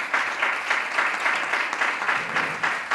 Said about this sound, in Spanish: os pido un fuerte aplauso para ellos